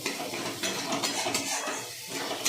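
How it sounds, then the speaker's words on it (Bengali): Spice paste of ground coriander, cumin, chilli and ginger paste with a splash of water, stirred and fried in a pan, close scraping and clinking of a utensil over soft sizzling, no talking. "একটু জল দিয়ে মশলাটাকে কষাচ্ছি"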